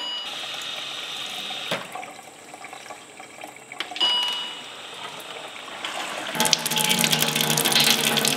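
Water runs from an Alkalife 8000 water ionizer, a steady low hiss through most of the stretch that swells into a louder, fuller gush near the end, with no talking.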